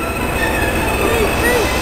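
A Thomas-themed train pulls into a heritage railway platform at Gloucestershire Warwickshire Railway, with a steady rolling rumble and faint wheel squeals under continuous noise from the crowd.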